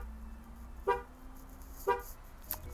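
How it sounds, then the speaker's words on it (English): A 2014 Chevrolet Equinox LS horn, sounded from the key fob, gives three short honks about a second apart, the last one fainter, heard at moderate distance over quiet outdoor background. "just press this button once, it'll honk three times to let you know where it is."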